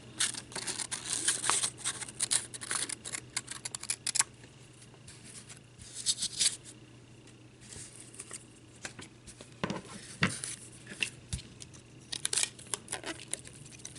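Scissors snip around a felt leaf in quick bursts of close, crisp cuts and crinkling, pausing briefly before resuming with more sporadic snips.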